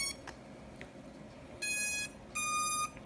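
An iFlight Cinebee 75 HD drone sounds its D-Shot beacon through the motors: two loud, sustained high-pitched electronic beeps about half a second each, separated by a short gap, heard up close after faint clicks.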